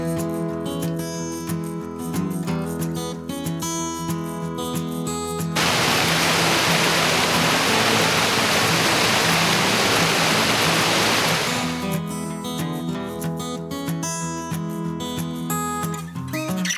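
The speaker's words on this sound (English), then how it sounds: "pretty slippery on some of the rocks with that waterfall coming down on us" Rushing water from Naramata Falls pours down over slippery rocks as a steady broadband roar in the middle section, with quieter surroundings before and after.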